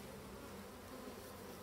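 Honey bees buzz in an opened hive above capped brood, a dense, continuous close hum that stays steady throughout.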